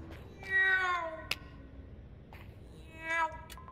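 A woman imitates a cat with two drawn-out, whiny meows, one near the start and one near the end, with a short click between them, during a Lockdown Protocol gaming session.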